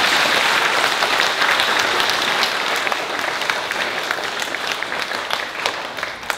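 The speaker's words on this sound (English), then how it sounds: "Let's give KH a great big clap." An elementary school presentation-day audience claps for a child receiving a class sport award, a dense, lively round of many hands that stays strong throughout and tapers slightly toward the end.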